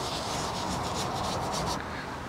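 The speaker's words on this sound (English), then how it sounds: "we're using a bristle pad to kind of grab it off" A bristle pad scrubs oven cleaner off a car part, making a steady, close, harsh rubbing and scratching with quick back-and-forth strokes for about two seconds.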